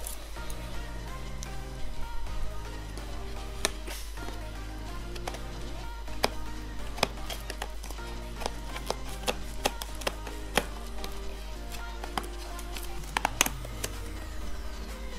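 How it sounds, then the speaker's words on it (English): Scissors snip and cut open the packaging of a Christmas gift, making a run of crisp clicks and crinkly snips at a steady close pace over a constant low hum. "I'ma cut this with my scissors."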